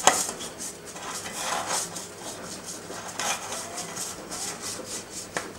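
A hollow-centre cake pan is greased by hand, giving soft, close rubbing and light metallic scraping in uneven strokes, faint and alone with no talking.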